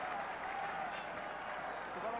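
A stadium crowd at a Leinster v Exeter Chiefs Champions Cup rugby match, with a broad, continuous roar and cheering at a distance and a commentator talking over it.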